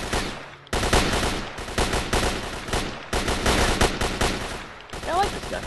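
Automatic gunfire from a weapon in the video game STALKER rattles out in several loud bursts separated by brief gaps, with a short non-gunfire sound near the end.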